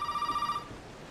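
A telephone rings in the horror game Resident Evil 7, a steady trilling electronic bell with a bright pulsing tone that stops abruptly partway through, leaving a quiet room hum.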